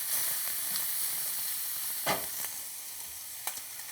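Chopped onions and a little chopped bacon fry in a pan with a steady, bright hissing sizzle, close and even, with a few faint stirring knocks scattered through.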